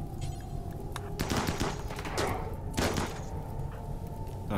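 Guns firing and exploding in the RimWorld video game, a series of sharp bursts and rapid cracks over a low constant hum, clustered in the middle of the stretch at moderate loudness.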